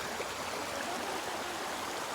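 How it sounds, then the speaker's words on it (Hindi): Steady rushing of a waterfall in a rainy village in Pakistan, a continuous broadband hiss of falling water, fairly close and even, with no voices over it. "यहाँ पे झरना बह रहा है, चश्मा पानी ये देख रहे हैं हम।"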